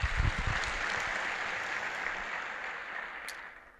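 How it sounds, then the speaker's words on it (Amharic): A church congregation at an Ethiopian general assembly opening claps together in a loud burst that fades gradually, a dense patter of many hands ringing through a large hall. "ለራሳችሁ አጨብጭቡ።"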